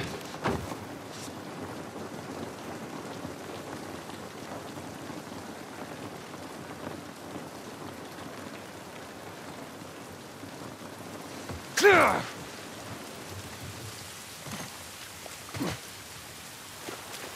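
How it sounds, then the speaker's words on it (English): Steady rain falls outdoors in the video game The Last of Us Part I, a constant soft hiss throughout with a sharp close crack near the middle and a few brief knocks toward the end. "This rain ain't gonna do us any good."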